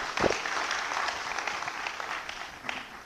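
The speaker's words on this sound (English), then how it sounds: "Another round of applause." Applause at the Uganda Water and Environment Week e-conference, a full round of clapping from an audience, steady and moderately loud throughout, starting with a sharper burst.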